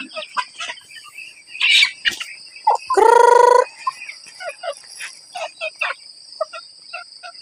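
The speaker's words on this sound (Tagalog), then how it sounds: "Mga sipat kining mga manoka." Free-ranging chickens cluck and squawk close by as scattered rice is thrown to them on a farm. A loud rooster-like crow cuts in briefly midway, with no talking.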